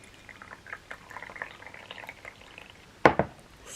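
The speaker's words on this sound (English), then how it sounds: "Anytime you press this button, hot water comes out." Hot water pours from a button-operated dispenser into a pot for green tea, a soft trickling hiss, followed by two sharp clicks near the end, with no speech.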